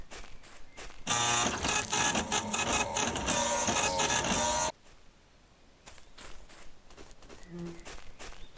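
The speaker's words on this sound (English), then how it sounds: "I just like the fax machine noise." An old printer or fax machine in the Shadows of Doubt video game churns and whirs loudly for about three and a half seconds, then stops abruptly, leaving quieter room ambience with a few soft clicks and steps.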